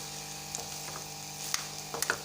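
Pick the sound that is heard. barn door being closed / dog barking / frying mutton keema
frying mutton keema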